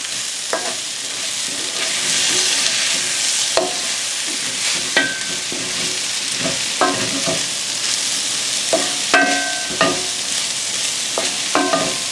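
Sweet potatoes and Brussels sprouts sizzle in a pan with a constant frying hiss, broken by occasional clinks and scrapes of a utensil, close up with no talking.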